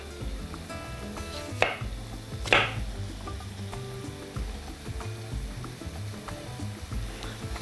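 A knife chops sweet peppers of two colours on a board, with a few sharp separate cuts standing out over a steady kitchen background with a faint sizzle.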